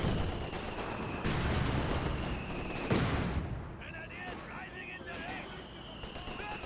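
A grenade blast in a Blessing Kaiser versus TR Remnants match of a military strategy video game, a burst of explosion amid rolling gunfire, with a commentator talking over the battle din.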